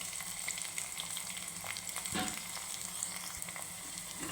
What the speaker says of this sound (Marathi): आणि चिरून घेतलेला कांदा मिक्स करून घेणार आहे